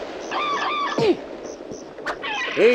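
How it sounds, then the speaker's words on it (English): Cartoonish birds in the Captain Claw video game squawk and cluck in several short bursts, a few honk-like calls and swooping cries repeating over a game backdrop. "Birds."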